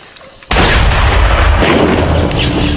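A single loud, sharp gunshot cracks out suddenly, then a heavy booming rumble lingers and slowly fades.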